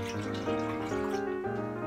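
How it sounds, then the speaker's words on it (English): Water pours into a large mixing bowl holding a cracked egg for pancake batter, a continuous trickling, gurgling stream close to the microphone whose pitch shifts as the bowl fills. "We add the water,"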